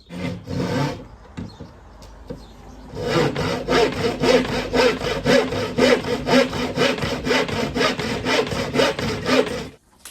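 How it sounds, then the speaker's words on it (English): A hand saw cuts through a wooden board, after a few tentative strokes settling into a steady rhythm of loud, rasping back-and-forth strokes up close. "All I've got to do now is start sawing."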